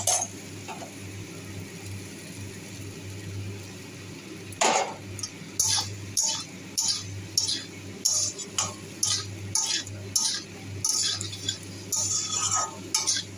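Okra being mixed in a pan: a spatula knocks and scrapes against the metal in a steady series of crisp taps and clatters, close and regular, following a quieter opening with a single louder scrape.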